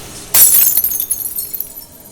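A glass mirror shattering in one sharp, loud crash, followed by a brief tinkling scatter of falling shards that fades out within about two seconds.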